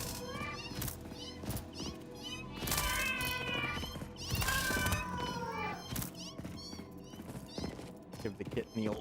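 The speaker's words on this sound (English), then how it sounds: "Definitely a freaking barn cat, that one." Cat-like creature in the video game Satisfactory meowing and yowling in repeated drawn-out cries over a busy game soundscape, loud and close, with a person talking intermittently.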